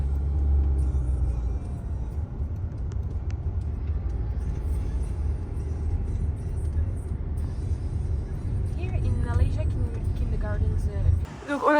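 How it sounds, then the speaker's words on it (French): A car drives steadily along a road in Bali, a constant low rumble from inside the cabin with faint squeaks and whistles near the end before a brief clunk. "On a pris la voiture."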